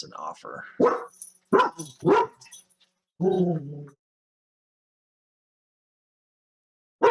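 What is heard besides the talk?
dog barking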